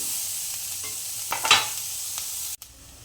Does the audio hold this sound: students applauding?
no